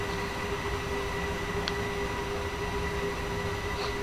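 A Class BR 426 electric train running on the Munich to Garmisch-Partenkirchen line in Train Simulator 2015: a continuous, even rumble with a steady hum and a faint brief squeak, no voices.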